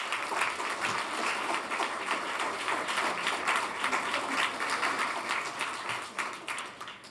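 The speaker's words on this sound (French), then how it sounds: "je pense qu'on peut leur donner une bonne main d'applaudissement" An audience at a school board commissioners' scholarship ceremony gives a steady round of clapping that fills the whole stretch at moderate loudness.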